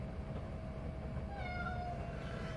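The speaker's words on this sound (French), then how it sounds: "il y a mon chat" A house cat meows indoors in a few short, faint rising calls over a steady background hum.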